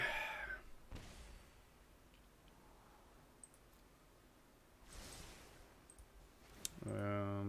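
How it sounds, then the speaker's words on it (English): Sparse light computer mouse clicks during an online card game, a few isolated taps over a quiet room background, with brief murmuring voice at the start and end. "I don't know if I have to do all this clicking necessarily"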